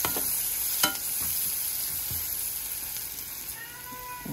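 Onion with turmeric powder sizzles steadily in a pan, a continuous hissing fry at fairly close range with an occasional clink or stir and no talk.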